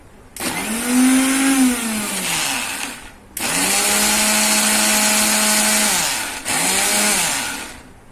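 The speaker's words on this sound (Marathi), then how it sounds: "आपण आता मिक्सरला 2 मिनिटं फिरून घेऊ" A mixer grinder churning butter whirs loudly in three bursts, its motor pitch rising and dropping as it is switched on and off.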